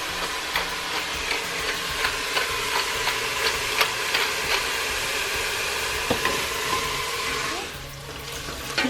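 Onions, carrots and celery frying in a pan while being stirred: a steady close sizzle with regular scraping strokes of the spoon at an even rhythm, easing and then thinning out toward the end; no one speaks.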